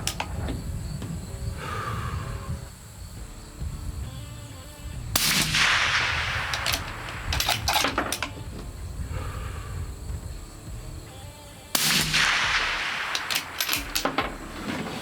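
Outdoor rifle fire at hams downrange from a 24-inch 6.5 Creedmoor and a .308 Winchester: two pairs of sharp, loud cracks, each trailed by a long rolling echo, with quiet ambient background between them.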